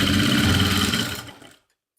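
A sewing machine stitches a folded triangle of trouser fabric, a fast steady mechanical whir running close and clear for over a second before slowing and stopping.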